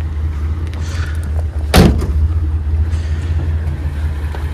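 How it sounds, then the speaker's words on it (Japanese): The bonnet of a Nissan Skyline Kenmeri is released with a single sharp, near clunk over a constant low hum, with no talking. "ボンネットの方もね、開けていきたいと思いますね"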